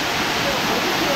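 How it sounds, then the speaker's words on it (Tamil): Water pours heavily down Papanasam waterfall, swollen with flow. A dense, steady roar of close rushing water fills the moment without a break, and a voice speaks faintly beneath it. "ஃபால்ஸில் வந்து பார்த்தீங்கன்னா பயங்கரமாக தண்ணி வந்துருக்கு"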